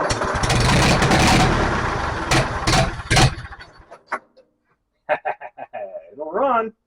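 A 1944 Ford 2N tractor engine with no exhaust roars loudly and raggedly for about three seconds, then sputters and cuts out, followed by a few clucks from nearby chickens and people talking.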